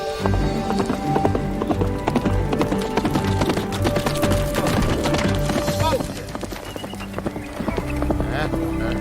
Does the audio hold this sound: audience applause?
no